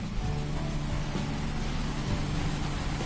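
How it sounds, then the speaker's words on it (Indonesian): Rain falls steadily on a workshop during a rainy day, a dense, continuous hiss with low rumble, evenly loud throughout with no voices. "kondisi di workshop saya hari hujan jadi suaranya agak sedikit ribut"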